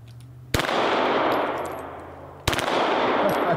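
Two sharp bursts of an automatic gun going off, fired at a bowling pin, the first lingering in a long ringing decay before the second hits near the end; loud and close, with no talk.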